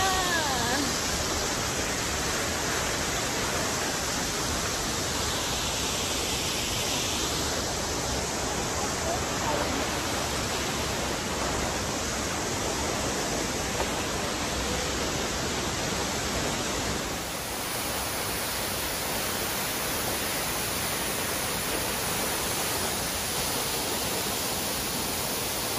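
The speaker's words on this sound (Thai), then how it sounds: "น้ำตกค่ะ" Steinsdalfossen waterfall in Norheimsund, Norway, about 20 metres high, roars as a loud, continuous broadband rush of falling water, close and unbroken throughout, with a faint voice barely audible beneath it.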